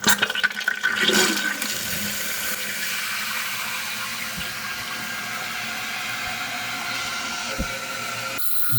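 A Glacier Bay dual flush toilet tank fills with water after the supply is turned on, a steady close rushing hiss with a brief louder surge at the start and no talking.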